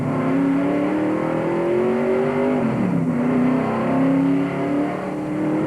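A 1978 NASCAR Winston Cup stock car with a 600-horsepower engine at Darlington Raceway roars close and loud throughout, its pitch climbing steadily, dipping briefly midway, then rising again as it accelerates, with no talking.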